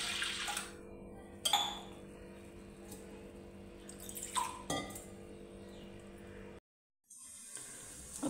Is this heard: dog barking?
no